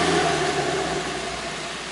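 Engine of an Audi RS5 with the 2.9-liter VAG V6 runs at a steady mid-pitched hum with a faint whir, fairly close, gradually easing off slightly in loudness, with no talking.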